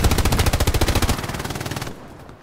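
Rapid machine gun fire in a video game, a loud fast-paced burst of shots that continues at a slightly lower level before cutting off near the end.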